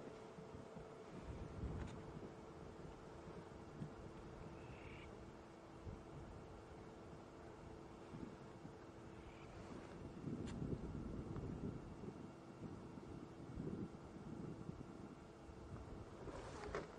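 Steady wind blowing outdoors during an afternoon safari drive, a constant low rushing roar with microphone buffeting that swells slightly midway, with no talking.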